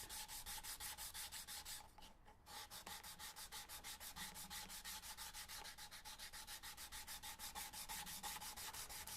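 Coarse-grit sandpaper rubs rhythmically over guitar X-braces, a steady back-and-forth rasp of rapid even strokes with one brief pause, close and quiet, no voices.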